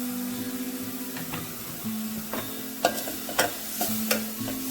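A coconut and jaggery filling for sweet kozhukattai is stirred in a pan, with soft sizzling under scattered scraping and clicking strokes of the spoon at an uneven pace, and no speech.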